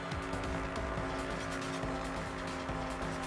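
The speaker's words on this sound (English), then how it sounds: "This actually requires some amount of driving because there's more cars on the road." Cars drive along a road in the video game Danganronpa V3, a steady engine drone with tire noise running continuously at even loudness with no talk.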